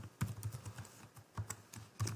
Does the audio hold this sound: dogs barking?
no